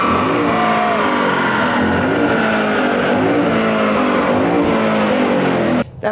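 A race car's engine howls at high revs, the pitch repeatedly rising and dropping through gear changes. It is loud and close, likely from on board, and cuts off abruptly at the end.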